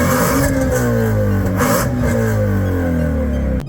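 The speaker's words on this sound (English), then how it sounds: "those are active exhausts, and take a listen to how much of a difference it makes going from closed to open valves" Shelby GT350 V8 with active exhaust revving, a deep, loud, close engine note that climbs and falls in repeated pulls, growing harsher as the valves move from closed to open, then cutting off abruptly.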